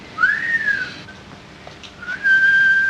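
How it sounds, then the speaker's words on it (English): Whistling said to come from a swallowed whistle inside a man's body, rising and falling in a few clear tones: a sliding phrase, a pause, then a longer steady held note, fairly loud and with no talk. "Must be the whistle he swallowed 10 years ago"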